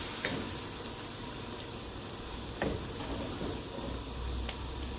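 Tomatoes sautéing in a pan for a squid and snow cabbage stir-fry, giving a steady close sizzle with occasional stirring scrapes and small pops, with no talk.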